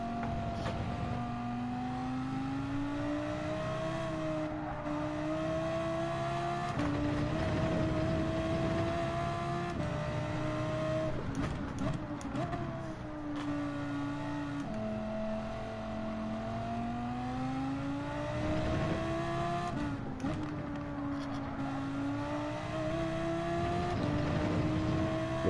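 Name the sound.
race car braking and engine in video game Gran Turismo 7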